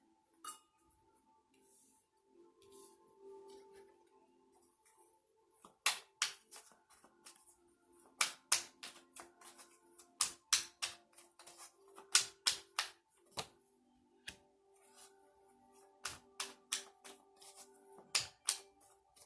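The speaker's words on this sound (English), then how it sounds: "Let me pull some more cards." Tarot cards pulled and handled, giving a run of sharp, close taps and flicks that start quietly and turn into rapid, irregular bursts, with no talking.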